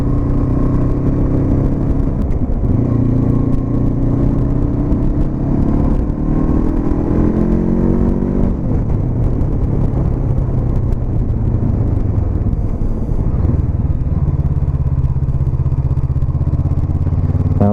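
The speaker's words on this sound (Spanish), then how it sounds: "Ya veis la fuerza que tiene la moto de respuesta" A Honda CB500X motorcycle accelerating along a road in autumn, its engine note rising and falling through the gears, loud and close throughout with wind rushing underneath.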